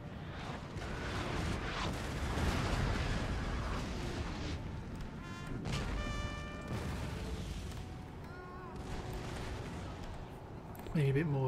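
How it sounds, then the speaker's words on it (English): Artillery guns firing barrages in the Napoleon Total War video game, a string of booming cannon blasts and rumbling impacts rolling over a battle din, with a voice talking over parts of it. "I've got my guns doing firing their barrages"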